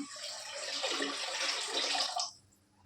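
Water is poured into a cooking pot for cooking in a home kitchen, a short faint rushing splash lasting about two seconds before stopping abruptly.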